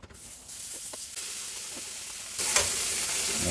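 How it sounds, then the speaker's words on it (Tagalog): Butter hitting a hot sizzling plate for squid al pobre, a close steady hiss that jumps louder and brighter partway through, with no talk. "Pag mainit na yung plate, ayan, lagyan natin ng butter."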